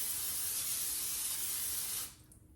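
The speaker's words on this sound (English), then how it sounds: "we're gonna spray some olive oil into the air fryer" Olive oil sprayed from a can into a hot air fryer, a steady close hiss lasting about two seconds before it cuts off, with no talking over it.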